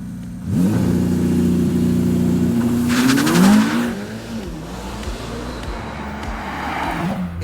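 A Ferrari Testarossa 849 launches hard, its engine revving loudly and climbing through rising pitch as it accelerates away, with a surge around the middle before settling into a steady, slightly distant drone.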